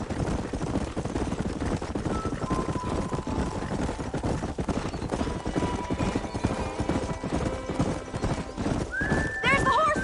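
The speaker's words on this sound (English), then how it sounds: "There's the horses!" Horses in Red Dead Redemption gallop in a rapid, continuous hoofbeat rhythm with loud whinnies, layered under talking and busy game sound.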